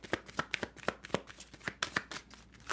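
Tarot cards are shuffled close up, a rapid series of crisp papery riffles and slaps in an uneven rhythm, with no voices over them.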